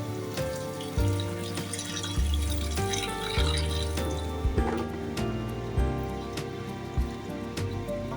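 Hot water poured into a pan of prawn curry, a steady splashing, trickling pour with intermittent clinks and bubbling, close and fairly loud, no talk.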